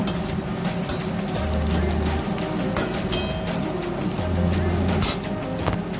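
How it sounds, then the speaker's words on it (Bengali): Onions frying in oil in a pan for a Bengali bhetki fish kalia, a steady dense sizzle with crackling that runs throughout, close and fairly loud, with occasional stirring clatter and no talking. "পেঁয়াজ ভাজা হয়ে গেছে"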